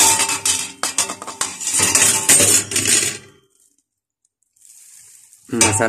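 1.5 kilograms of mutton goes into a lidded pot, then masala and red chili for Punjabi handi gosht, with loud clattering and stirring sizzle in bursts, a sudden near-silence, then a faint hiss before the noise returns.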